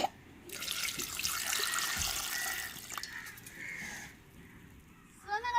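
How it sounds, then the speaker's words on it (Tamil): Water pours in a steady hissing stream over tamarind set to soak for several seconds, then tapers off, with faint background noise and a brief bird call at the end. "தண்ணி ஊற்றி ஊற வச்சுக்கிறோம்"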